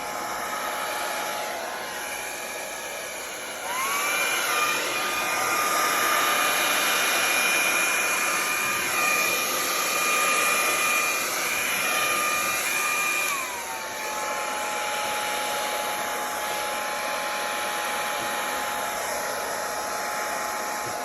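An air blower runs steadily for a Dutch pour fluid-art painting, a loud continuous whine and rush that rises in pitch mid-way and then drops back to a lower hum, with no voices.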